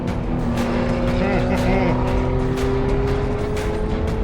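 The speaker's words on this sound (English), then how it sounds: "Pretty fun to hear that supercharger howl." A supercharged track car at Sonoma Raceway runs at speed, its engine a steady loud drone topped by a rising and falling whine, with a voice talking over it.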